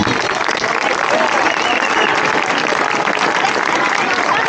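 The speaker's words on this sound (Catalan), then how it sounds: "Un fort aplaudiment per Lluís Puig, sisplau" A festival crowd at the Sant Sebastià celebrations applauds loudly and steadily, a dense, close wall of clapping from many hands that carries through the whole stretch.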